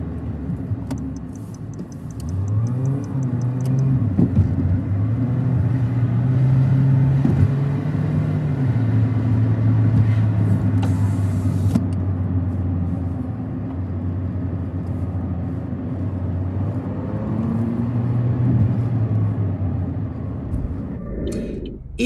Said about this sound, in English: All the way here, you felt the car really working because it's all uphill.